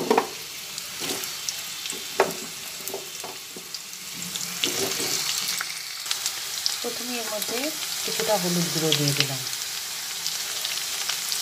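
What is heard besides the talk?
potatoes frying in mustard oil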